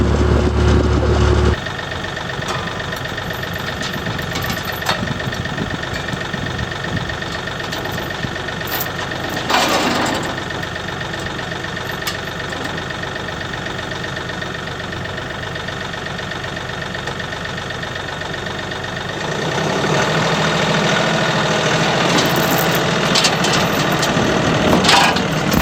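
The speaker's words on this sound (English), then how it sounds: "put the drag behind the tractor and run over it" A tractor runs steadily while pulling a drag across loose topsoil on a runway, its engine drone continuous and fairly loud, with a brief rough scraping swell near the middle and the engine working harder toward the end.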